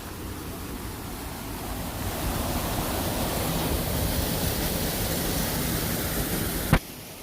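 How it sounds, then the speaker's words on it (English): A waterfall at Vrelo Bosne nature park in Bosnia and Herzegovina roars steadily, a dense broad rush of falling water filling the whole clip, with a brief sharp click near the end. "And here's this waterfall."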